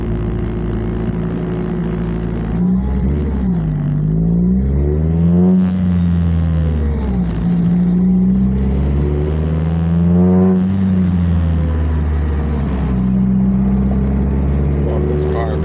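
A car driving steadily, its engine humming continuously and rising and falling in pitch as it revs through gears, loud and close throughout.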